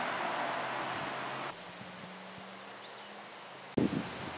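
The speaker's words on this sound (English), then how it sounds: "It's a windy day." Broad, steady wind rush buffets the microphone, easing partway through, with faint bird chirps and a sudden bump near the end.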